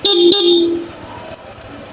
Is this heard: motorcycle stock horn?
yes